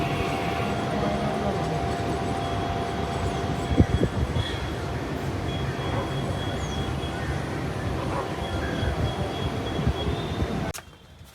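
Mumbai-area local train running, a steady loud rumble and rattle of the carriage from inside, with a brief clunk partway, voices faintly underneath, ending abruptly.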